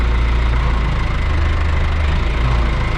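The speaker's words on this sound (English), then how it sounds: "So now we'll stop the tractor" A farm tractor engine idles at a steady low rumble, close and constant, while work goes on clearing fallen trees from a trellis.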